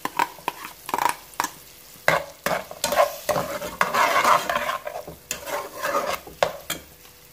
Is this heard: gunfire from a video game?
no